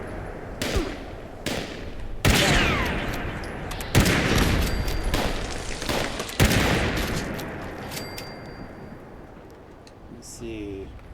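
Turret gunfire in Fallout 76 rings out as loud, sharp bursts of shots and echoing bangs spaced through the scene, with talking over part of it.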